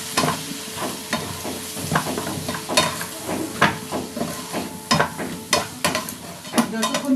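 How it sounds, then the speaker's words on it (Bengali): Spice paste with Kashmiri chilli powder being stirred and fried in oil, a steady close sizzle broken by repeated sharp scraping strokes of a spoon against the pan. "যতক্ষণ তেল না ছাড়বে ততক্ষণ কিন্তু মশলাটা কষাতে হবে"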